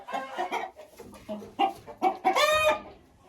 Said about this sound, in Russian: И на эти 2 яйца я принесу сейчас квочку.